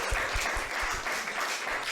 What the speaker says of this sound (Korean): 박수 한번 주시가